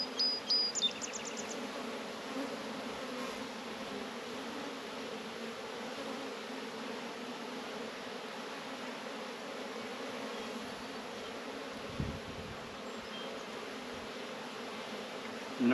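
Honeybees droning in a dense, steady buzz while a swarmy nuc is split into four hives, close and continuous, with a few faint knocks and a brief high chirp near the start.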